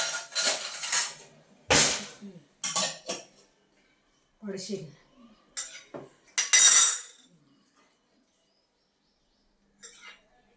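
Steel pots and lids clanking and clinking while a fridge is cleared out and leftover milk cream is gathered, sharp separate knocks and scrapes coming in bursts with quiet gaps, and a voice talking now and then.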